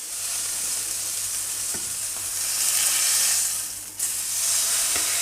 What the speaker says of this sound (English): we're going to start timing the steak once we start butter basting it